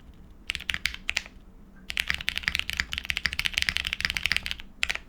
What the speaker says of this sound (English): This is how loud the mouse clicks are at keyboard level.